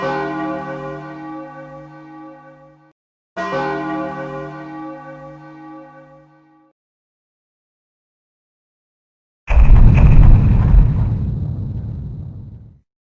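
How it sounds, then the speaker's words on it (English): Clock tower bells in the video game The Legend of Zelda: Majora's Mask: two loud, deep bell strikes, each ringing out and fading, then after a pause a heavy booming burst with a rumbling decay. "at the end of each day and dawn of a new one, you're met with the harrowing sound of the clock tower's bells"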